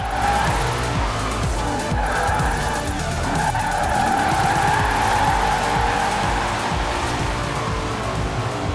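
Car drifting in Forza Horizon 4, with a loud, continuous tire squeal and skid over a roaring engine, sustained and close throughout with no pause.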